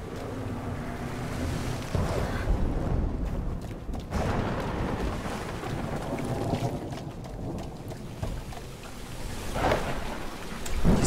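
Heavy rain and rolling thunder in the game Sea of Solitude, a dense steady downpour with low rumbling swells building and fading across the whole stretch, loud and close with no voices.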